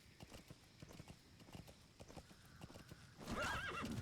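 A horse in the video game Metal Gear Solid V: The Phantom Pain clip-clops in a steady trotting rhythm, then lets out a loud, wavering whinny near the end.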